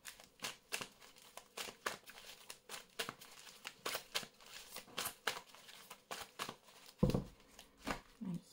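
An oracle card deck is shuffled and cut by hand in a quiet room, giving repeated quick riffling bursts at a steady rhythm, close and soft, with a slightly louder thump near the end.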